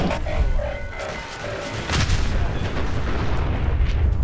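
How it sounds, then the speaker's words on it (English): Deep booming blasts roll through a Fallout 4 battle, with a large explosion swelling around the two-second mark and rumbling on, accompanied by scattered gunfire and heavy low-end thuds. "And big, massive explosion and all that."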